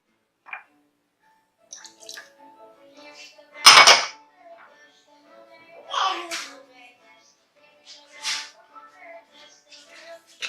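Salad ingredients for a strawberry and spinach salad are dropped and tipped into a bowl, making soft scattered taps, rustles and clinks with brief silences between them and one louder clatter.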